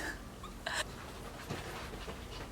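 A dog pants in quick, soft breathy puffs close by, with a brief higher whimper-like sound partway through and no talk.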